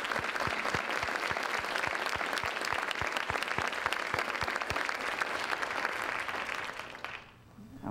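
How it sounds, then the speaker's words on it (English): Sustained audience applause at an education forum, a dense, even patter of many hands clapping for about seven seconds before it fades out near the end. "Let's give them all a warm round of applause."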